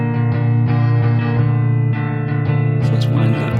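An electric guitar chord rings out through a Joyo Space Verb reverb pedal with a wide, washy reverb tail, sustained and loud, with a few fresh strums layered on top.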